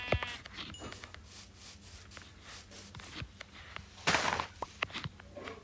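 Sheep bleat in the Minecraft video game among soft footsteps and rustling, with one louder bleat standing out near the end over quiet, scattered ticks.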